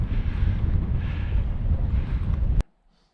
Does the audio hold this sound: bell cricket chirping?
no